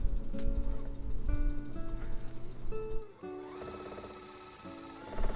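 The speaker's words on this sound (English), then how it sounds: "then sew all the way to the end" A sewing machine stitching a seam on a scrap quilt block, its motor whirring with a tonal hum that shifts pitch as speed changes, stopping briefly around the middle before starting again, close and moderately loud, with no talking.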